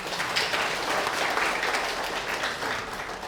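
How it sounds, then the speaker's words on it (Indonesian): A church congregation at an anniversary service in Palembang applauds, giving dense, steady clapping from a crowd for a few seconds with no talk over it. "Tepuk tangan."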